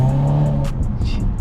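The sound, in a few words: car engine downshifting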